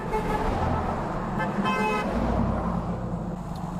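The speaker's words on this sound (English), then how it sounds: "Fucking honking, dude." Car horns honk in a steady run of traffic noise, with one sustained toot standing out near the middle over the road rumble.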